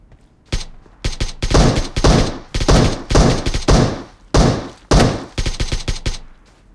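Gunfire in PUBG Mobile: loud, close bursts of rapid automatic shots, one volley after another with brief gaps, and sharp single reports between the strings.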